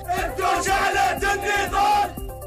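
A large crowd in Hebron in the West Bank shouts and chants together in loud, rhythmic surges, clapping or stamping in a regular pulse before fading slightly at the end.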